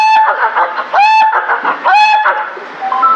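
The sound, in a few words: ventriloquist imitating a hen clucking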